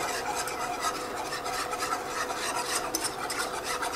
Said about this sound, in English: We're going to start whisking this together.